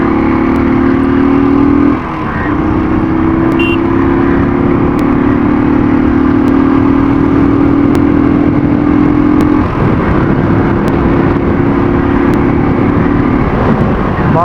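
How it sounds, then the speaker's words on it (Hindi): A Royal Enfield Thunderbird 350 motorcycle exhaust drones loud and close, holding a steady throb with brief dips as the throttle shifts, running alone without talk. "बाकी एग्जॉस्ट साउंड आपको सुनाई दे रही है"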